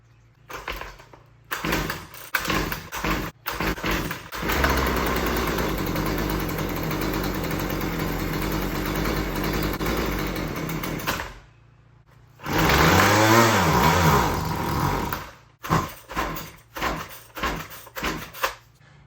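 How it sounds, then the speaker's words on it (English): A Husqvarna 128LD weed trimmer with a broken-off choke and a weak primer bulb is pulled several times, then runs loud and ragged for about seven seconds. It cuts out, revs again briefly and is followed by more pull-cord rattles. "the choke on this carburetor is broken off and I don't think the primer bulb is working, but oh well, I'm just gonna see what's gonna happen anyway"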